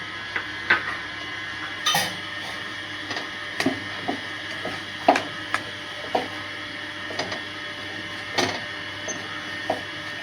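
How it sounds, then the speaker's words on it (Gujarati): Ghee being stirred into a saffron mango mohanthal mixture in a pan, with a steady run of soft scraping and clinking from the spoon and a few sharper knocks against the metal, no one talking. "છેલ્લે આપણે ઠારતા પહેલાં અડધી ચમચીથી 1 ચમચી જેટલું ઘી ઉમેરી અને મિક્સ કરી લેવાનું"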